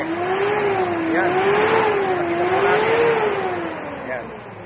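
A car engine revved up to about 4,000 rpm, its pitch rising and falling in smooth waves as the throttle is worked, loud and close, with voices talking over it.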